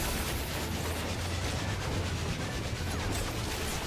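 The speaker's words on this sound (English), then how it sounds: "Anyone recognize a phantom train?" A phantom train rumbles in a Final Fantasy XIV raid, a dense, continuous roar with faint rhythmic clatter, loud and steady with no voices.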